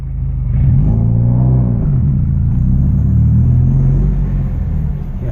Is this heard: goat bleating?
no